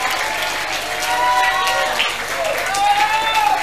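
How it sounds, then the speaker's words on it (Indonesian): Applause from a crowd fills the room, steady clapping at moderate loudness with some voices and cheers mixed in. "Berikan tepuk tangan bagi Yesus"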